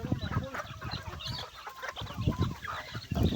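Chickens cluck on a mountain farm, several birds close by making busy, overlapping clucks in irregular bursts, fairly quiet overall.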